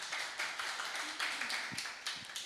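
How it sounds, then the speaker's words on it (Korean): A church congregation applauds during a Sunday sermon, a soft, fairly distant patter of many hands clapping in uneven waves. "예, 박수 하실래요?"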